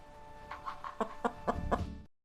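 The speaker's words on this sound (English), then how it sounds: "Look, it's the chickens. And they're making that sound. They say cluck, cluck, cluck." Chickens cluck in a quick series of short, clipped calls, fairly close, with a few louder bursts toward the end and no talking.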